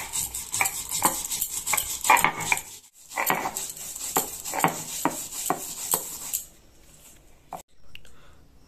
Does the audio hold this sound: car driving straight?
no